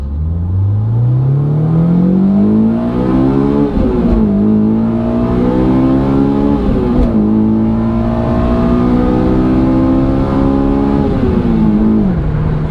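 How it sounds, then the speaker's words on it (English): A Honda S2000 engine fitted with an LHT airbox mod revs hard and steadily rises through its VTEC changeover, a loud continuous drone that climbs in pitch with brief dips as it shifts, with no talking. "when VTEC changeover happens, it's more audible"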